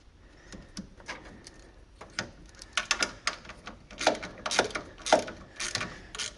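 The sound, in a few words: ratchet bolting oil catch can to radiator mount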